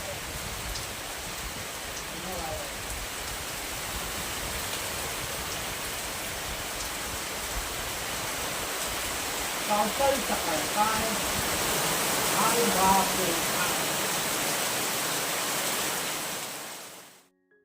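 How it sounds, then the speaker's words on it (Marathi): Heavy rain roars in a dense, continuous wash, with faint voices briefly murmuring underneath midway through before it cuts off. "तर आज सकाळपासूनच मुसळधार पावसाला सुरुवात म्हणजे एक पाच मिनटं पाऊस थांबायचा आणि पुन्हा जोरदार मुसळधार पाऊस चालू व्हायचा"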